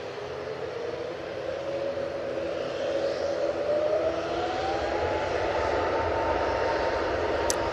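An EasyJet Airbus A320neo takes off, a steady jet roar that builds slowly with a rising tonal whine, heard from a distance with no voices.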